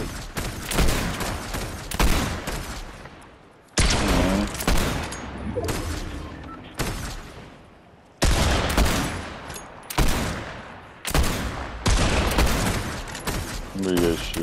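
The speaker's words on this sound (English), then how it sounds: "Where are you guys shooting at?" Rapid gunfire in an online shooter video game, repeated loud bursts of shots with brief gaps between volleys, close and dense, with players talking over it now and then.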